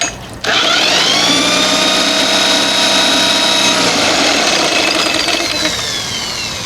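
A 1987 Evinrude 4 hp outboard motor that had been flooded runs loud and close, its buzzing engine note steady after a sharp start, shifting slightly in pitch as throttle changes and easing off near the end.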